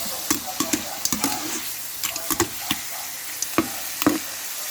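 Chili paste (nam prik pao) stir-fried for seafood tom yum fried rice, with irregular spatula scrapes and clicks against the pan over a soft sizzle, fairly close and moderately loud.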